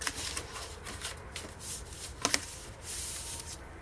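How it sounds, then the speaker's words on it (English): Paper being folded and creased by hand for a scrapbook folio pocket, giving soft rustling and rubbing close by with a couple of sharper crinkles partway through, heard alone without talk. "And this one's going to be folded like this for the pocket."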